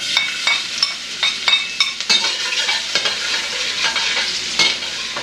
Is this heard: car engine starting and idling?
no